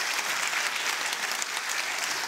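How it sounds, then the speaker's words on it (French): Sustained audience applause at an evening apprenticeship awards show at CY Cergy Paris Université, a dense, even wash of many hands clapping at moderate level, steady throughout without voices. "On les applaudit bien fort, s'il vous plaît."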